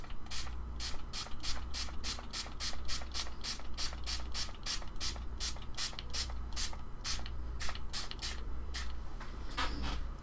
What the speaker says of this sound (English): Let's spray it and see if see what it does.